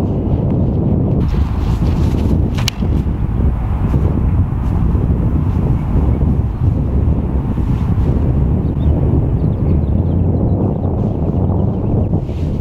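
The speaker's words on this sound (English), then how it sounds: "The wind's picking up a little bit" Strong wind blowing outdoors at a disc golf field, a loud continuous roar buffeting the microphone for the whole stretch, with no talking.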